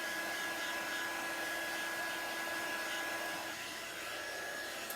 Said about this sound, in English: if you're using a heat tool, you want to keep it moving